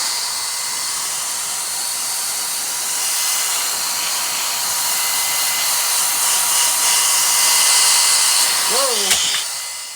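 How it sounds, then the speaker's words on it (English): A compressed air duster hisses in a steady, loud, continuous blast while cleaning dust off Transformers figures, ending with a brief rising voice exclamation. "kind of decobwebbing with the air duster here and see how that does"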